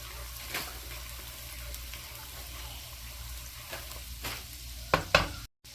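Garlic frying gently in butter over very low heat, a soft, steady sizzle close by, with a few brighter scrapes and stirring clinks near the end and no talking.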